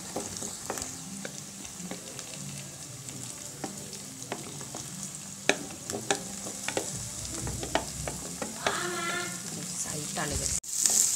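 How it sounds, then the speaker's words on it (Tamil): Elephant foot yam and onions sautéing in a pan, a steady close sizzle broken by frequent scraping stirs and clinks of a spatula, with the sound continuing without a break. "சேனக்கிழங்கு போட்டு நல்லா வெங்காயம் அதுவும் சேர்த்து நல்லா வதக்கணும்"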